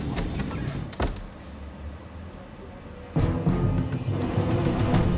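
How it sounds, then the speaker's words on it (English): A lavatory door aboard a Pacific Southwest Airlines airliner opens against steady cabin noise, with a sharp click near one second and a louder mechanical shift just past three seconds as the door moves. "Next, they hear the sound of the lavatory door opening."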